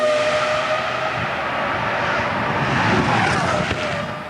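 Formula One car engine screaming at 19,000 RPM during 2002 qualifying, a loud sustained high-pitched whine roaring steadily for several seconds, fading slightly at the end.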